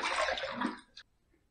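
Water splashes at a sink as a face is rinsed after shaving, a short, close burst of running and splashing that stops abruptly, followed by a small drip.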